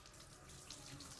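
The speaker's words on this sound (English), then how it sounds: "Go ahead and turn the sink on." Water running steadily from a sink tap, a continuous even hiss and splash at moderate level with no talking.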